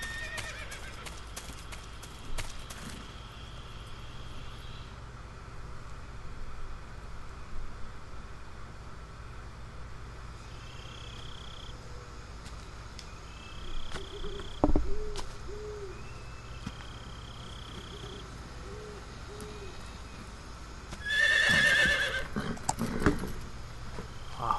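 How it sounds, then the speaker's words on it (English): In a jungle area of the Metal Gear Solid 3 video game, a horse whinnies and its hooves clip-clop on the ground. Scattered game sound effects and faint tones play over a quiet ambient bed. "Horse in the middle of the jungle."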